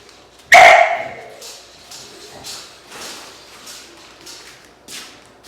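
A single loud, close bark from a bully breed dog opens, followed by softer, scattered barks and yips from dogs at a distance.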